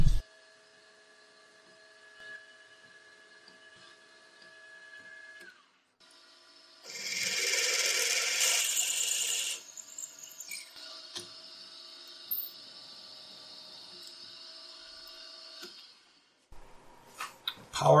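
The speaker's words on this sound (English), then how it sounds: "Power tapping the M10 threads." Power tapping M10 threads into a backplate for a Zentra six-jaw chuck on a machine tool: a steady mechanical whine with tonal hum, broken by a loud, dense hissing burst lasting a few seconds midway before the quieter machine drone resumes.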